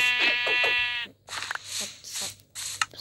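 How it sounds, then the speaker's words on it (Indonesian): Sheep bleating in the Minecraft video game, a couple of short, nasal bleats up front followed by a quieter stretch of scattered in-game sounds. "Sini kau domba."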